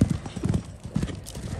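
Hoofbeats of a gaited horse shifting into a pace during a lameness check by a vet, heard as rhythmic, fairly close clip-clop footfalls in uneven bursts.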